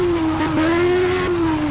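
Formula 2 race car engine in a racing video game, a steady high-pitched whine holding near constant pitch with slight dips as it shifts, loud and continuous with no talking.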